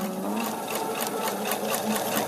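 A sewing machine runs steadily, stitching pinned blue fabric for a paper-pieced quilt block, a close, continuous motor whir with a rapid needle patter throughout.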